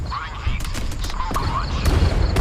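Tank guns fire in the MWT Tank Battles game, involving a North Korean Cheonma-2 tank: several booming shots and blasts in quick succession over rumbling engine noise, fairly loud and close.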